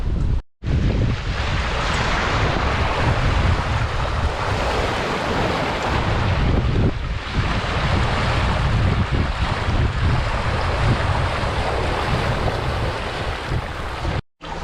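Breeze and waves while sailing a boat near Magnetic Island: loud, continuous wind buffeting the microphone over rushing water and splashing surf, heard up close with no voices.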